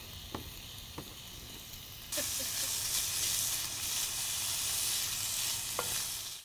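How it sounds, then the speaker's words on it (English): Chopped bacon goes into a cast iron skillet over medium heat. After a few quiet clicks, a loud, steady, close sizzle bursts on and continues to the end. "We're gonna transfer that into this cast iron skillet. I've got this over a medium heat. And we're just gonna fry this just like you'd fry any other bacon."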